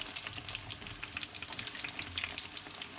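Bread snacks for a Ramadan iftar deep-frying in hot oil give off a steady, dense sizzle with fine crackling bubbles throughout, close and continuous, with no talking.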